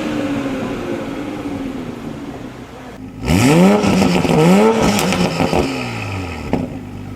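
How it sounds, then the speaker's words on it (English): A car engine fitted with an aftermarket downpipe idles with a low rumble, then revs sharply twice, the exhaust roaring and dropping back between pulls, loud and close. "A downpipe with a high-flow catalytic converter alters the tone and slightly increases the exhaust system's"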